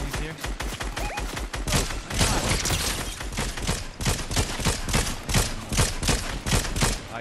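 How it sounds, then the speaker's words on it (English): Rapid bursts of gunfire from a Fortnite firefight crack continuously throughout, dense and loud with overlapping shots, no talk over it. "Shooting Mike now"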